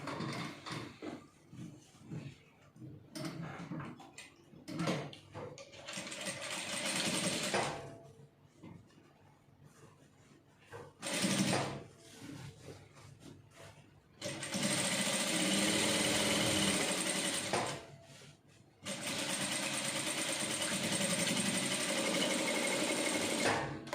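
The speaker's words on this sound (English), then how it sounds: "I'm going to start sewing from this upper part straight down" Sewing machine stitching a single welt pocket: a few short, stop-start runs of stitching at first, then two long, steady, close whirring runs with a brief pause between them.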